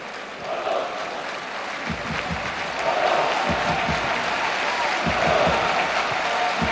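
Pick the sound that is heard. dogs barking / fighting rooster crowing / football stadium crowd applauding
football stadium crowd applauding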